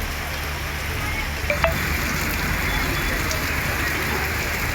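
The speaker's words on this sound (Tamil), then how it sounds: "கன்னியாகுமரி மாவட்டத்தின் பல்வேறு பகுதிகளில் பெய்த மழையால் பொதுமக்கள் மகிழ்ச்சி அடைந்தனர்." Steady rain falling across parts of Kanniyakumari district, a continuous even hiss of drops on outdoor surfaces with no voices and one brief faint tap partway through.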